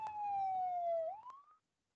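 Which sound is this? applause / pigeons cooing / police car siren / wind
police car siren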